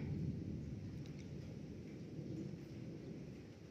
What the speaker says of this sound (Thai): ฝนกับบ่ตกบัดนี้มีแต่ฟ้าร้อง